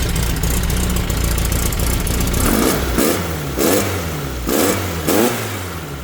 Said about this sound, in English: let's give this thing a couple flips of the throttle here and then I'll shut it off